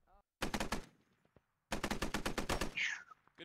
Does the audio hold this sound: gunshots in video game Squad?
yes